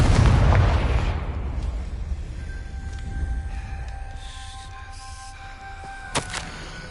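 Fiery Confringo blast spell explodes in Hogwarts Legacy, a loud booming burst at the start that rumbles and fades, followed by softer magical tones and a sharp crack near the end.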